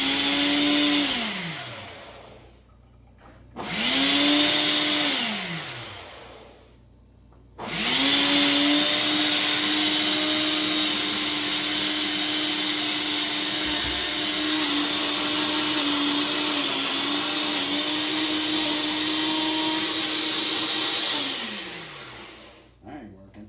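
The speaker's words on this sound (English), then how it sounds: "I'm going to hit Ultra Blend." A blender on Ultra Blend whirs loudly making pesto, starting and stopping twice in short bursts before running continuously at high speed for a long stretch, then winding down.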